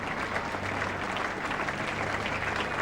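A cricket crowd at the Oval claps steadily during the 1975 England versus Australia Test, a broad, distant wash of applause filling the stands, with no nearby voices.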